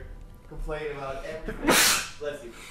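A person sneezes once, a sharp loud burst near the middle of the clip, with a voice speaking before and after it.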